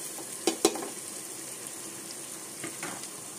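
Sliced onions fry in a pan for mutton keema stew, a constant even sizzle with a couple of sharp stirring clicks early and faint scrapes later, no voices.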